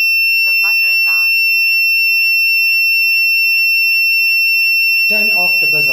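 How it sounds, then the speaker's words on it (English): A steady, high electronic buzzer tone from an Arduino voice-controlled setup drones without a break from start to finish, with short bursts of speech near the beginning and again at the end. "Turn on the buzzer. Okay, the buzzer is on."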